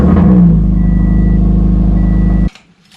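A Subaru FRS engine starts and settles into a steady, loud idle close by, then cuts off abruptly near the end, leaving near silence.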